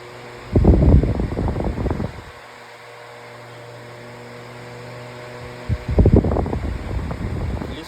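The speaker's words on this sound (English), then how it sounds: "I'll turn on oscillation," Retro metal pedestal fan running on high with oscillation, a steady whirring hum and airy rush that surges twice as the head sweeps toward the microphone, fading to a low drone between passes, no voices.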